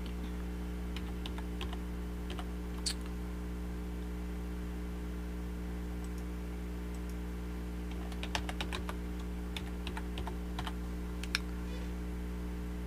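Keys clack on a computer keyboard while a username and password are entered, light irregular bursts of taps with short pauses, close and quiet over a constant low electrical hum.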